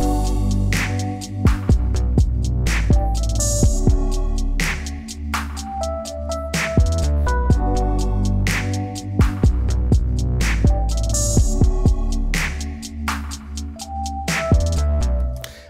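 Full R&B beat with Rhodes electric piano keys, a grungy in-your-face bass and punchy drums, playing loud and dense with steady rhythmic hits and no voices.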